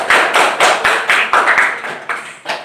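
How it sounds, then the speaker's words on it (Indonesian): A class of students claps hands in a rhythmic pattern, about ten sharp, close claps in a steady beat with brief pauses, loud and clear with no talking. "Tepuk tangan untuk kita semua."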